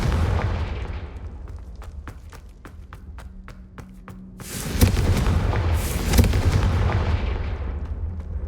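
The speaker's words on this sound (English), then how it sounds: "Confringo!" Spell blasts from Confringo in the video game Hogwarts Legacy: a burst of sharp rapid cracks, then two louder booming explosions with rumbling rolling on, near and prominent.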